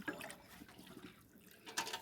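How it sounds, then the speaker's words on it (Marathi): Water sloshes and trickles in short bursts, like a small amount being swirled in a pot and poured out, fairly close with a louder splash near the end. "थोडंसं पाणी विसळून टाका पातेल्यातलं"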